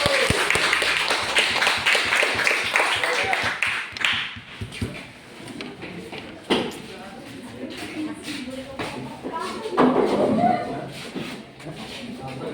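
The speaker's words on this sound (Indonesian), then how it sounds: "Tepuk tangan dulu buat kelompok 1." A classroom group claps for a presenting group, a burst of dense, close clapping that thins into scattered claps and shuffling while people talk over it.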